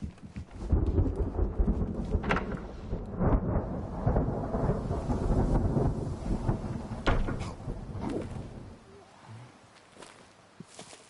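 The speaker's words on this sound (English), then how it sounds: "don't tell me it's raining still." Steady rain hisses over rolling rumbles of thunder, with a few sharper cracks, then the storm fades toward quiet near the end; video game weather audio.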